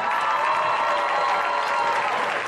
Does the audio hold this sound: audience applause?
yes